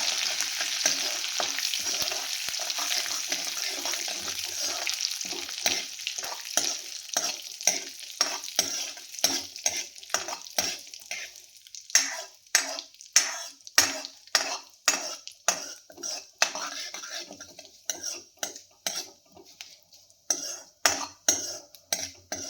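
Cumin seeds and curry leaves frying in a pan of oil, a steady bright sizzle at first, then rhythmic close scraping and tapping of a spoon stirring against the pan, the strokes growing sharper and more regular.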